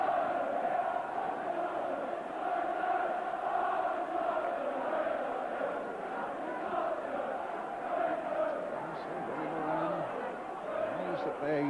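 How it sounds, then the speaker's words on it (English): A stadium crowd of nearly 28,000 at Anfield, Liverpool, during a snowy winter football match against Tottenham Hotspur, a steady roaring murmur that fills the whole stretch without letting up. "That is a magnificent crowd."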